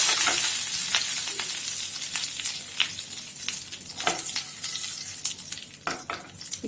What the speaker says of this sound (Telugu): 2 స్పూన్లు నిండుగా శనగపప్పు, 1 స్పూన్ జీలకర్ర, ఒక 3/4 స్పూన్ వరకు ఆవాలు వేసుకొని ఫ్రై చేసుకోవాలి